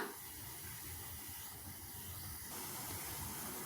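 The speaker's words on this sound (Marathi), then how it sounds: "आता ह्यांना छान उकळी येऊन द्यायची आपल्याला" A pot of masala tea heats toward a boil, giving a faint, steady hiss and bubbling simmer with no voices.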